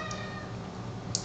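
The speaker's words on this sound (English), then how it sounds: "And he's meowing" A cat meows faintly in the background during a home total-body workout, with a low steady hum throughout and a short brighter cry near the end.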